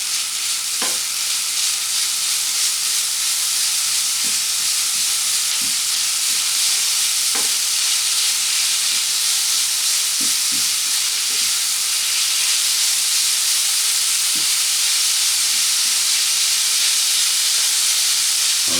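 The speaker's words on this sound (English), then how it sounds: "we'll slowly break up the beef" Ground beef browning in a hot pan for a plate meat pie, giving a steady broadband sizzle while a utensil breaks the meat up with occasional soft scraping taps, close and continuous with no talking.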